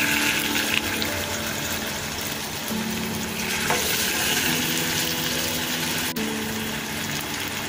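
Marinated chicken frying in a little oil gives a dense, continuous close sizzle with occasional stirring scrapes and a sharp tap near the end, with no voices.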